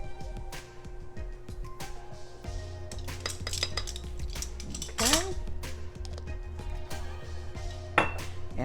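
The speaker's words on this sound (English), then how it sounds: "mixing these eggs up real good in here" Eggs and banana bread batter mixed in a bowl, with a steady run of close clinking and scraping of a utensil against the bowl and occasional sharper knocks, under faint talk.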